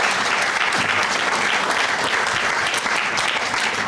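Sustained, loud applause from an outdoor crowd at the Piers Park II groundbreaking celebration, thick and continuous throughout.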